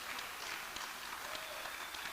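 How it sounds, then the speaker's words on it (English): Sustained audience applause fills a theatre hall during a live poetry gathering at the Liberty Theatre in Astoria, a dense, steady wash of clapping from many hands lasting the whole moment. "Give him a big round of applause."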